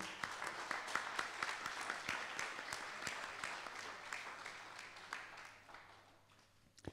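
Audience applause at a geopolitics conference event at La Brède, with dense many-handed clapping holding steady, then thinning and fading toward the end, no talk over it.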